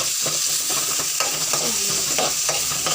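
Shallots and curry leaves fry in hot oil with a steady, dense sizzle, broken by a few sharper crackles and spatters, close and loud with no voices.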